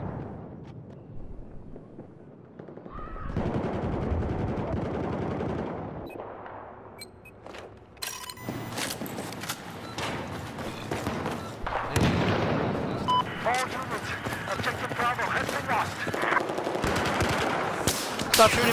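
Bursts of automatic gunfire from the video game Battlefield 4, rapid rattling volleys and sharp single shots that come and go over about eighteen seconds, with some faint talk between them.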